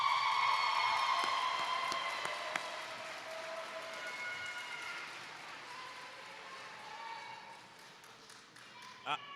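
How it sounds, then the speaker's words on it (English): Graduation crowd in a large hall cheering and clapping, loud at first with whoops and shouts, then gradually fading into scattered applause and murmur over several seconds. "Y'all can cheer a little bit more"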